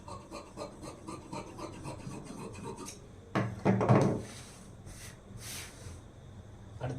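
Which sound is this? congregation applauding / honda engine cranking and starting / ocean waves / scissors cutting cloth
scissors cutting cloth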